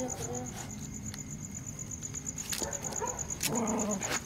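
A small female dog barks in a few short bursts over a steady hiss of crickets and insects, with people talking close by.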